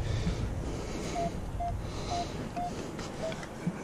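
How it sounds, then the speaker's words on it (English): A metal detector set up for beach and land sounds a short, clear tone over and over on a coin-like target, five evenly spaced beeps under steady wind and outdoor noise, fairly faint and close. "this is the first coin-like signal I've had all day, and it's a 23"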